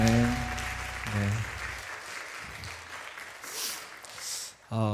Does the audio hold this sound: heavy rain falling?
no